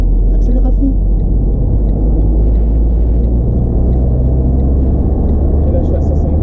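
A car accelerating hard while merging onto a road during a driving lesson, heard from inside the cabin as a loud, steady engine and road rumble under voices.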